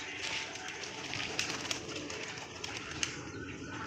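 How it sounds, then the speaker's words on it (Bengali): Pigeons in and around a coop give a steady, dense murmur of soft cooing, with a few brief sharper flutters or calls rising out of the continuous flock noise. "এই কিছু পায়রা এখানে, আর কিছু পায়রা ভিতরে আছে"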